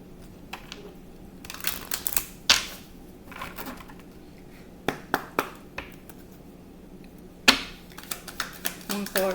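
Tarot cards shuffled by hand in short bursts of riffling and flicking, with sharp snaps and rustles scattered across the stretch, fairly close and fairly quiet, and a faint low hum underneath.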